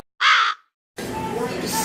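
A single harsh raven caw rings out loud and close, followed after a short pause by a steady murmur of background noise.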